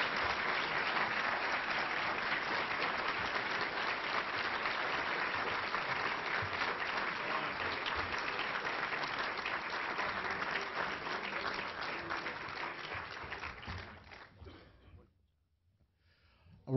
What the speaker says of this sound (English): a round of applause for our three candidates